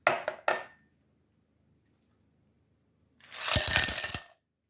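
Ice cubes clatter into a glass of Jamaican sorrel, a hibiscus drink: a couple of sharp clinks at the start, a pause, then a longer burst of rattling and tumbling ice, close and fairly loud.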